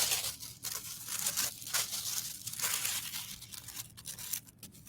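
Scissors cut through a paper napkin in a craft setting, giving a continuous crisp rustling snip and tearing texture with short bursts, close up and without talk.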